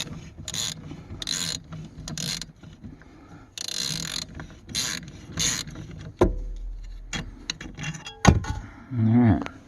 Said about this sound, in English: Yeah, so I'm going to take these bolts out.